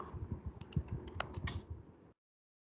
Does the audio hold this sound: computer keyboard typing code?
yes